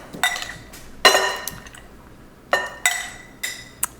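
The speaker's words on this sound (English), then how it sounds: "So now we can add the eggplant." Chopped eggplant goes into a salad bowl for a Korean vegetable salad, making a handful of sharp clinks and clatters of utensils against the bowl, spaced irregularly and fairly close, with quiet pauses between.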